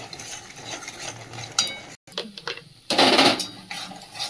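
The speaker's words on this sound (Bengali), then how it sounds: "মশলাটাকে ভালো করে কষিয়ে নেবো" Spice masala with Kashmiri chili powder being stirred and fried in oil in a pan, a continuous close sizzle with scraping spoon strokes, a brief break, then a louder hiss of frying.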